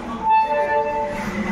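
A passenger train stands at platform 2 of Azimganj Junction, giving off a brief, steady tonal hum with a faint high whine over a rumbling background.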